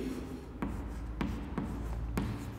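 Pen writing out a geometry proof on paper during a maths lesson, soft close scratching strokes with a few sharper taps at regular intervals over a steady low hum, no talking.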